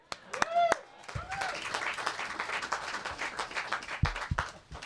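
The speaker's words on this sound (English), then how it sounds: "Hey, give Chaz a quick round of applause." A crowd at a Washington State University baseball groundbreaking ceremony gives a short, quiet round of applause. The soft patter of clapping runs under someone speaking into a microphone nearby, with a few louder claps near the end.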